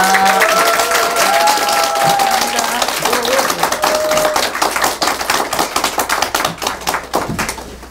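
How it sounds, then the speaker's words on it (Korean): Encouraging round of applause from party members at a political gathering, dense clapping that starts strong and thins into distinct individual claps toward the end, with background voices. "우리 서은숙 최고위원님 그 격려의 박수 한번 부탁드립니다."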